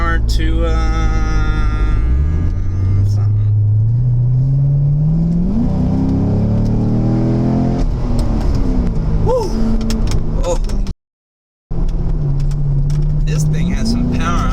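Chevrolet Corvette Grand Sport in sport mode accelerating hard, engine note climbing steadily through a rising rev with a gear change and a brief cut, loud and close, with a person talking over it.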